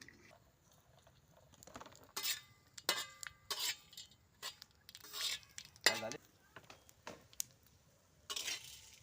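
Cinnamon and whole spices dry-roast in a pan, with faint, irregular scrapes and light clinks of stirring against the metal in a quiet room.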